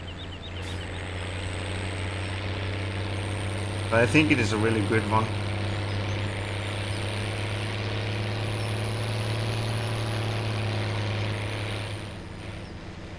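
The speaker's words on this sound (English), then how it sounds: "What I do like about this tractor is the sound of it." Steady low tractor engine idle in Farming Simulator 17, a constant drone running through the clip while someone talks briefly over it.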